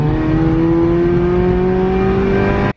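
A Honda Civic EJ9 with a D14 engine revs steadily in a shed, a close, sustained mechanical drone holding one pitch before cutting off abruptly at the end.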